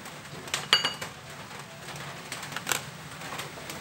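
Utensil scraping and clinking against a pot while glutinous rice flour is dissolved in water for bubur candil, a few sharp taps standing out over a quiet continuous stir.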